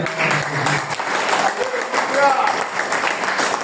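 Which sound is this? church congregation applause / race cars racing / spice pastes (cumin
church congregation applause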